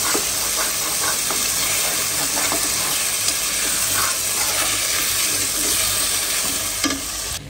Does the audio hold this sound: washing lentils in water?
yes